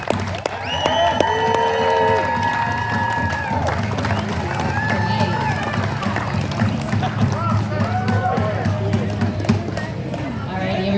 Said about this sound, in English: Can I get another round of applause for Dr. Troy Smith?